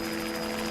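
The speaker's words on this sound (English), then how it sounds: "Her prayers are answered when she hears a helicopter" A helicopter's steady rotor drone and engine whine fill the air continuously and loudly over a mountain crash site.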